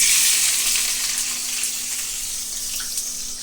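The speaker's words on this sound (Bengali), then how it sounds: "তেল দিয়েছি, এখন পেঁয়াজ দিচ্ছি।" Onions dropped into hot oil fry with a loud, dense, steady hiss that fades slightly over a few seconds, close up and with no voices.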